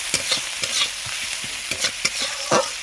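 Chopped onions frying with prawns in a pan for a Bengali spinach dish, a continuous sizzle broken by repeated scraping stirs of a spatula at an uneven rhythm, close and clear with no talking.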